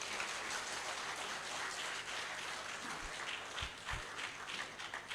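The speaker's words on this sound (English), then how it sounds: "That's another round of applause." Audience applause at a community social center launch in Kisumu, a dense, steady wash of many hands clapping at moderate distance, with a few low thumps near the end.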